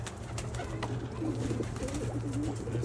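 Young pigeons and a cock bird in a loft coo in soft, low, rolling phrases that repeat and overlap against a steady background hum.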